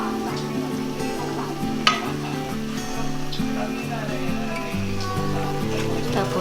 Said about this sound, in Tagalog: Tapos haluin natin hanggang sa maluto.